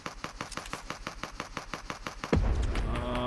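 Gunfire in a multiplayer shooter: a steady rapid burst of about fifteen evenly spaced shots, close and loud, then a sudden heavier blast or impact with a lingering rumble at the end.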